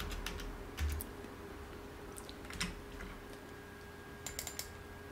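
Computer keyboard keys typed on a Windows machine for a Photoshop Control J shortcut: a few quick, light clicks in short clusters, quiet and close, with no talking.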